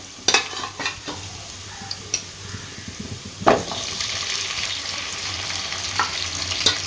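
Boiled beef stirred into hot oil with browned dried red chillies for a beef gravy, a sizzling, frying hiss throughout, with scraping clatters of a spoon against the pan at irregular moments.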